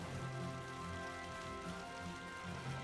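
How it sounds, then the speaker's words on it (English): Steady rain patters across surfaces in Final Fantasy 12: Zodiac Age while wandering the countryside, a continuous soft hiss of drops with a faint musical tone underneath and no voices. "Oh, it's raining again."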